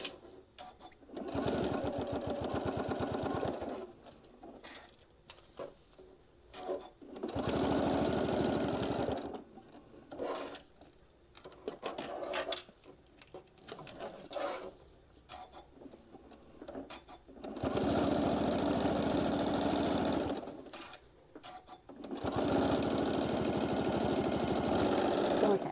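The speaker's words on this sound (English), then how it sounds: "We're just top stitching all the way down." A sewing machine topstitches fabric in several bursts: a loud, close, rapid mechanical whir runs for a few seconds, pauses briefly, then starts again, with short quieter gaps between the runs.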